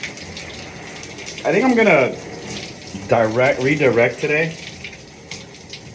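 Shower water runs steadily as a constant hiss throughout, with someone talking close by over it in two short bursts.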